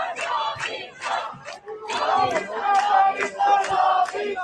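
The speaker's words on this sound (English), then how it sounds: "Do you see that crowd?" Iranian protesters chant in a large crowd, loud rhythmic shouted bursts repeating about twice a second, close and forceful.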